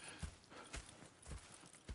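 Horse hooves in the video game Red Dead Redemption 2 clip-clop in a steady, evenly spaced rhythm, faint and somewhat distant against a soft background hiss.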